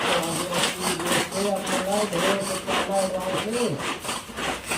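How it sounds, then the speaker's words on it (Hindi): Carrots being grated by hand for momos, rhythmic rasping strokes close by, heard under overlapping voices from a group preparing food. "कोनो गाजर कद्दूकस करत तो कोनो प्याज ला"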